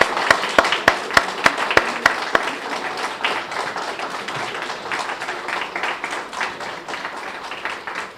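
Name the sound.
applause for the St. Lucia mission team standing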